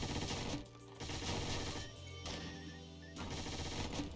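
Rapid gunfire from a red-shot gun in the video game Dungreed, a dense continuous rattle in several bursts with short gaps, mixed with game music and no talk.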